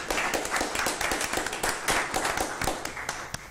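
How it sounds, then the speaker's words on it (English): A crowd at a school board of trustees meeting claps in a round of applause, a fairly close, dense patter of hand claps that thins slightly toward the end. "Let's give them another round of applause."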